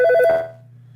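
An incoming call rings from a telephone as a short electronic ringtone burst of rapid pulsed tones, which fades within half a second and leaves a low steady hum.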